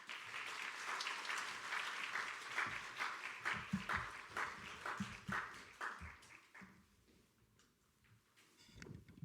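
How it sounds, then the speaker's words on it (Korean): A church congregation applauds to welcome the pastor, a dense sustained clapping that swells, then thins and fades toward the end. "목사님 나오실 때 큰 박수로 환영하도록 하겠습니다."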